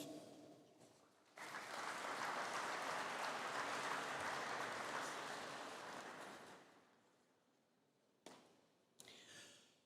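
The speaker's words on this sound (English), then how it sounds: "Can I have a collective round of applause for the graduates" Graduates of an engineering and informatics faculty receive a collective round of applause at a conferring ceremony: a sustained, dense crowd clapping of roughly five seconds that swells, then fades, followed by a couple of brief later bursts.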